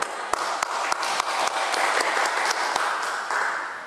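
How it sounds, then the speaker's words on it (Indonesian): A crowd at a meeting of a pesantren building committee in Jagebob applauds the committee chairman, steady, dense clapping with a few sharp louder claps standing out, fading slightly toward the end. "Kita tepuk tangan untuk ketua dulu."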